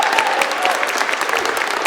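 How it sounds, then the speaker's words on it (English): Applause from a film festival audience for the filmmakers at a 48 Hour Film Project screening Q&A in Aberdeen, a steady, dense patter of many hands clapping at full strength with no break. "a round of applause for all of them"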